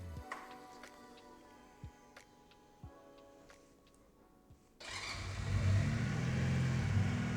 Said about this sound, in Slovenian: Zdaj bomo pa še malo prižgali, da slišite to bobnenje.